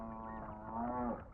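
A buffalo lows in one long, steady, droning bellow, close but fairly quiet, with no other sounds around it.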